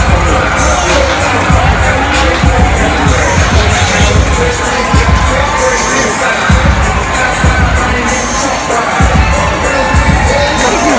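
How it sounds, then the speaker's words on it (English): Crowd applauding and cheering in the stands at a celebrity baseball game, loud and continuous, with shouts, whistles and some children's voices in a busy outdoor ballpark wash. "Give Zaza a round of applause."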